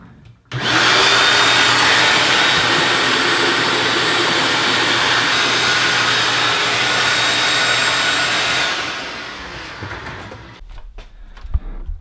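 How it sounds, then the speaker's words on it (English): A vacuum cleaner roars loudly at close range for about eight seconds, then winds down, followed by a few faint knocks and clatters. "So I'm gonna get the vacuum out."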